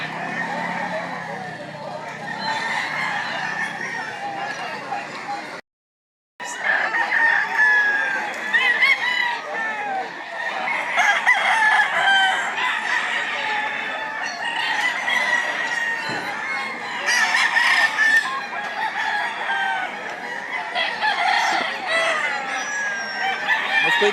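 Fighting roosters crow repeatedly at a busy gamecock market in Lipa, Batangas, amid clucking fowl, with steady crowd chatter and bargaining voices throughout and one brief gap of silence.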